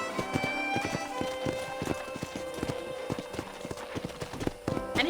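Horse hooves clip-clop in a steady walking rhythm near a ranch corral in the video game Red Dead Redemption, crisp regular knocks continuing throughout.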